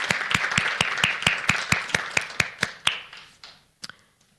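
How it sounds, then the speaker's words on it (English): A small group at a climate business summit table claps, sharp regular claps that thin out and fade to a last few scattered ones. "I think we can give you a round of applause on this side of the table."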